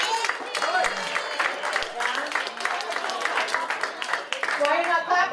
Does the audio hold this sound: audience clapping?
yes